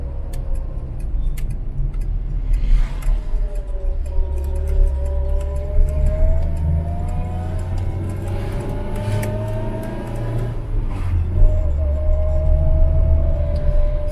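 An Austin Allegro, laid up since 1981, on its first test drive around the block: steady engine drone with rising and falling revs through gear changes, close and continuous, with light ticking.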